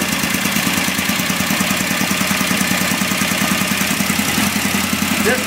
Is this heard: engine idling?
yes